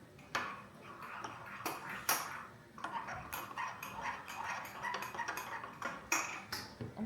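A spoon stirs a drink in a cup, giving repeated light clinks and taps against the side in an uneven rhythm, close and fairly quiet.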